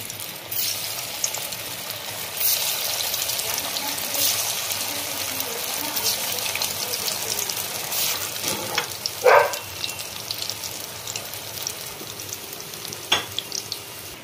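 Vegetable kofta balls fry in hot oil, giving a steady close sizzle throughout with occasional clinks and stirring clatters.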